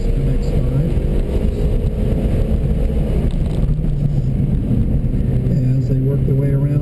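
Mazda MX-5 in the road tire class on an autocross course, its engine droning loud and steady throughout while a commentator talks over it.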